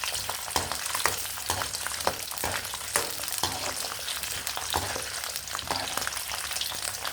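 Garlic cloves frying in hot oil in a Telugu vankaya gongura pulusu curry, a steady close sizzle with frequent stirring clicks and scrapes, no voices.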